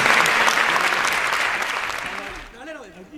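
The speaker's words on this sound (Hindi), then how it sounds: "चलिए एक बार हरिप्रकाश जी और मोहन भाई के लिए जोरदार ताली होनी चाहिए।" Audience applause for two performers at a Hindi poetry event, loud and dense at first, then thinning out as a voice starts speaking over the fading claps.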